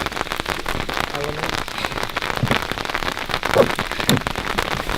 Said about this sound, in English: we're just letting the raindrops go by a little bit